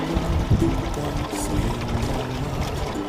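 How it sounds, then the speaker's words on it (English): Water pours steadily into a compost and microbial tea mix for about three seconds, a close, continuous splashing gush with no one talking. "Give one more shot of water."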